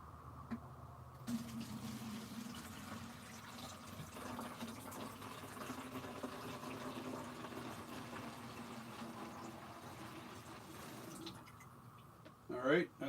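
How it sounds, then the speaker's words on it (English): Distilled water pours steadily into a container for about ten seconds, a faint, continuous trickling splash that ends abruptly, followed by a brief clatter. "pour the distilled water"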